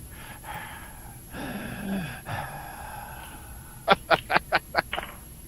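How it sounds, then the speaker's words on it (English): Breathy, airy exhalations close to a microphone, followed by a quick burst of five sharp puffs or snorts in a row. "We hear you breathing."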